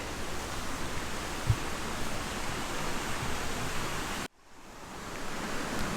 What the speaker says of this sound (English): If you're wondering what that noise is, it's a river.